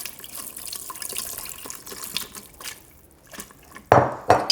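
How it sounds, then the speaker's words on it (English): Broth poured slowly into masa harina (maseca) while whisking, a steady liquid trickle and splash with faint whisk scraping against the bowl, ending in a few louder pouring bursts near the close; no talking. "slowly pour the broth and whisk as you're pouring."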